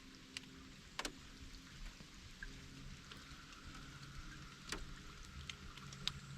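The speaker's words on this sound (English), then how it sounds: "Cold rain." Cold rain falling around a fishing boat on the water, a steady close hiss with scattered sharper drop taps and a few louder knocks throughout, with no talking.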